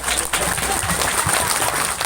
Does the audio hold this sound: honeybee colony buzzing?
no